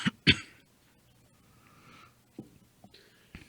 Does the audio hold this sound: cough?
yes